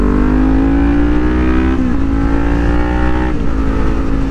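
A McLaren sports car accelerates hard nearby, its engine note climbing steadily through rising gear pulls with two quick shifts, loud and close with no talk.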